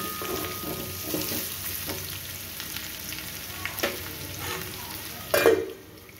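Potatoes frying under a lid in a pan for Kashmiri aloo dum, a low steady sizzle with a few stirring knocks and a louder clatter near the end.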